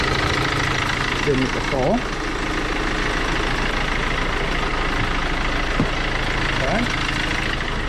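A Mercedes Sprinter W906 diesel engine idles with a light rattling knock, a steady close rumble under brief spoken remarks.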